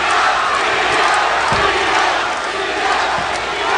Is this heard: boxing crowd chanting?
yes